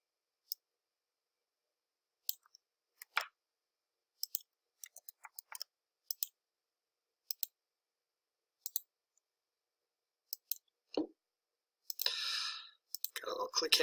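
Computer mouse clicked repeatedly while setting up a digital campaign, sharp, quiet, irregular clicks scattered across the quiet, sometimes in quick pairs, with a brief murmur of speech near the end.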